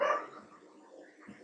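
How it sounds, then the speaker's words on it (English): A stray dog barks in the distance, one brief, faint yelp at the start trailing into low background noise. "Sorry about the dog barking in the background."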